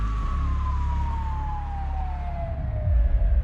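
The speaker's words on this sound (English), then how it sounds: "When the ambulance finally arrived at the clinic, a medical team was waiting." Ambulance siren wailing steadily with a slowly falling pitch, close and loud over a low engine rumble, rushing a patient to the Cleveland Clinic.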